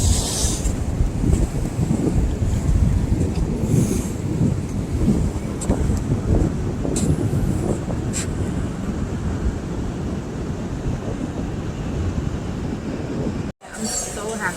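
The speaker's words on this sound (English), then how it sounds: "The waves are huge out there." Loud, constant rushing wind and heavy wave noise out on the water aboard a boat, with deep rumbling buffeting on the microphone that continues almost without a break.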